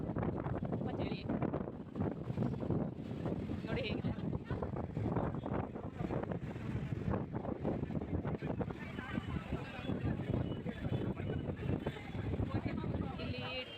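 Strong, cold wind buffets the microphone on Nandi Hills in a continuous roaring rush, loud and close throughout, with voices faintly present underneath.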